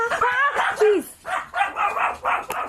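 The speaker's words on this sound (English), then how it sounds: "setting off the dog alarm" A dog barks in short, yappy bursts set off by a knock at the door, with several sharp barks and whimpering yips spread across the moment, fairly close and mixed with some talk.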